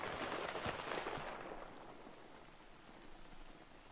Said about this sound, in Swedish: Regnar lite.